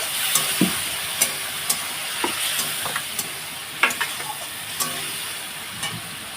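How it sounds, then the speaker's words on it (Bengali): Fish cooking down in a pan with chilli, turmeric, salt and a splash of water for a fish curry, a low sizzle punctuated by sharp spoon scrapes and clicks at irregular intervals. "এর মধ্যে লঙ্কা হলুদ আর লবণ একটু জল দিয়ে গুলো নেয় একটু ভালোভাবে কষিয়ে নেব"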